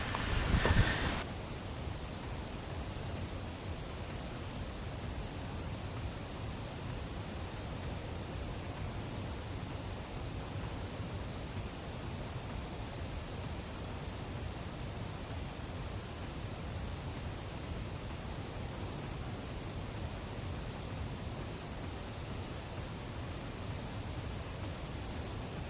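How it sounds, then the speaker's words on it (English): A waterfall along the Battle Creek Trail rushes in a constant, even roar of broadband water noise, steady and unbroken throughout with a brief handling bump at the very start and no voices. "So many waterfalls."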